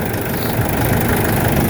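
Nissan Navara D40 2014 with YD25 diesel engine idling after a new power steering belt, a loud, steady low rumble close up with no breaks.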